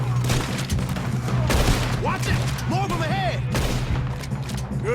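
Rapid gunfire in Red Dead Redemption 2 during a shootout in snowy mountains, repeated sharp shots and bursts crackling throughout, with whistling ricochet-like sweeps and voices shouting underneath.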